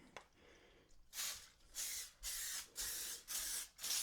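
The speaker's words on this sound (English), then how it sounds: "I'm gonna use some spray" Five or six short bursts of non-stick cooking spray hiss in a quick, even rhythm, close and fairly loud, while greasing for ciabatta bread dough.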